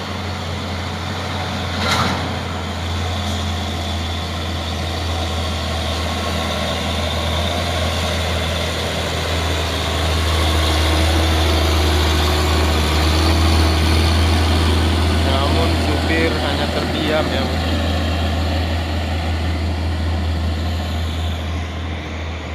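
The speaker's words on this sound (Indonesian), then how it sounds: "Ada trailer menurun dengan kencang ya." A loaded trailer truck carrying crude palm oil speeds downhill, its heavy engine a steady low drone that swells slightly midway, with broad road noise throughout.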